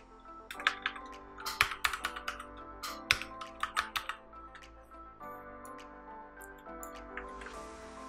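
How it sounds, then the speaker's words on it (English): Keys clatter on a computer keyboard as a short word is typed into a text layer, in close, crisp bursts of clicks with brief pauses between them. "I type in Nike."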